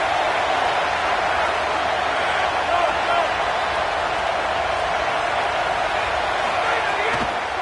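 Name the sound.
football stadium crowd cheering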